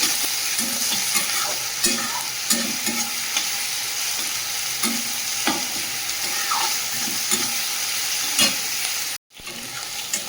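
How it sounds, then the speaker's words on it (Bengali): Ground ginger, garlic and green chili paste fries in hot oil as masala, sizzling steadily while a spoon scrapes and stirs it in regular strokes; close and moderately loud, with no voices. "আদা রসুন কাঁচা লঙ্কা একসঙ্গে বেটে রেখেছিলাম, দিয়ে দেবো। ভালো করে মশলাটা ভেজে নেব।"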